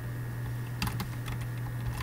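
Typing on a computer keyboard while writing code for a space shooter game, a short burst of quick clicky keystrokes near the middle over a steady low electrical hum, with a few scattered taps afterward.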